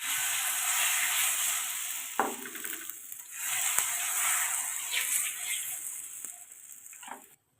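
Vegetable paratha batter sizzles steadily on a hot tawa, a continuous bright frying hiss with brief scraping clicks as it is spooned and spread, fading out at the end.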